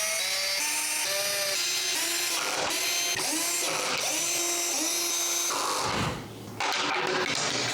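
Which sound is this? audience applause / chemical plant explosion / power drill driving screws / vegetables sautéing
power drill driving screws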